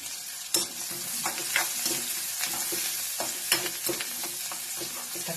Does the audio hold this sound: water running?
no